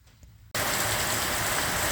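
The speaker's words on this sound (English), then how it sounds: "We're in for a fair bit of rain over the next few days, I believe." Rain falls steadily outside a workshop during a lathe rebuild, cutting in abruptly after a quiet moment and then continuing as an even, loud hiss.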